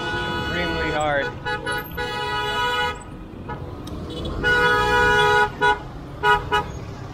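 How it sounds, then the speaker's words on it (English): A car horn honks repeatedly, long blasts followed by several short toots, close by amid road noise. "Now, a car that happens to be honking that much,"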